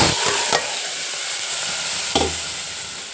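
Hot tempering of dried red chillies and curry leaves is poured into rasam, a loud steady sizzle with two sharp hissing surges as the oil meets the liquid, close by and without voices.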